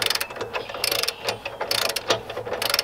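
A hand ratchet clicks in quick repeated bursts while snugging bolts on a milling machine addition, close and fairly loud, with short pauses between strokes and no talking.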